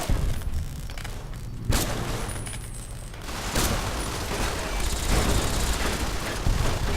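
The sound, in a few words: robots shooting in Fallout: New Vegas video game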